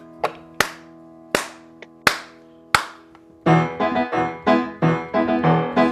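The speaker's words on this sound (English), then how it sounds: "we can see each other clap" Hands clap during a Kabbalat Shabbat service: first several sharp separate claps with ringing tails, then a quicker run of louder, fuller claps from more people close by.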